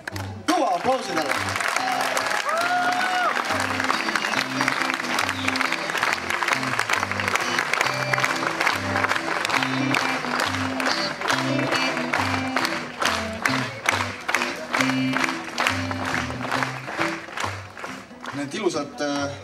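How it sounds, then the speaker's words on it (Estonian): A festival audience at Viljandi Folk 2008 breaks into loud, sustained applause with dense clapping that runs on for many seconds and fades slightly near the end, while voices and a little cheering mix in. "Kõva aplausi tälle!"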